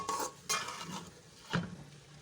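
Fried egg stirred into chicken vegetable fried rice in a pan, with a few clinks and scrapes of a spoon against the metal at a close, moderate level and no talk.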